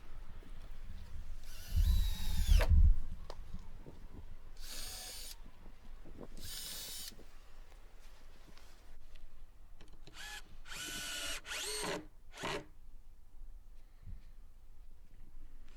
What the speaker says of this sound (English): I'm attaching these pieces with 4 screws